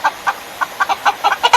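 Chickens settling into a portable pen built from two dog kennels and an old dog house give a series of about nine short, sharp clucks in an uneven rhythm, close by and alone.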